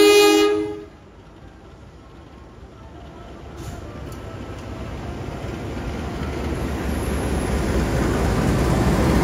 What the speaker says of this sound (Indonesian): Baru saja tiba di stasiun Pekalongan, kereta Kalikung tujuan stasiun Semarang Poncol, spesial dengan lokomotif berlivery vintage ya